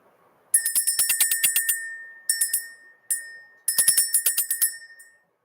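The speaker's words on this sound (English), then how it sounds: "Let's ring the bell, let's clear the energy" A small bell rung by hand in a spiritual energy-clearing ritual, sounding in rapid bursts of bright ringing strikes with short pauses between, close and clear with no talk over it.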